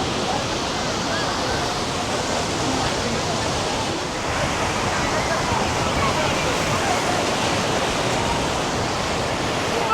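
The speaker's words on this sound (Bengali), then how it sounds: "আর যে সমুদ্রের ঢেউটাকে দেখো, এতটা সুন্দর লাগছে" Sea waves at Digha beach rolling and breaking in a steady, loud wash of surf that fills the whole stretch without pause, with wind noise over it.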